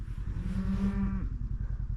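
A ranch cow lets out one long, loud, steady moo close by, over a low rhythmic rumbling background.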